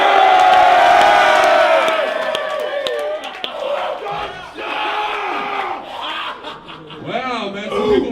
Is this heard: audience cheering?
yes